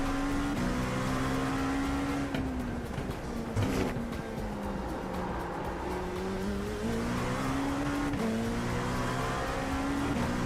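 A race car engine drones continuously in a racing video game, its pitch rising and falling as the car accelerates and shifts through gears, loud and steady with faint tire noise and no talk.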